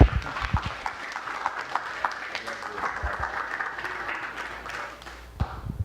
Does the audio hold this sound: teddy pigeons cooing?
no